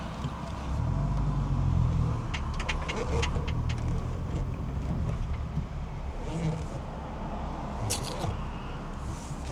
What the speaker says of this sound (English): It's going to be quite a few rattles, obviously, because we've got none of the interior back together.